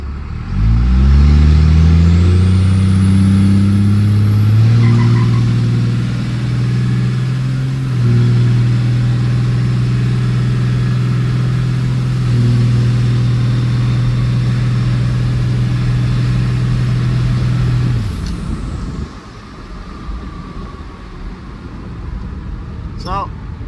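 A stock 12-valve Cummins diesel in a pickup truck is brake boosted, its engine climbing in pitch and then holding a loud, steady roar with a turbo whistle above it for roughly fifteen seconds before dropping back to idle.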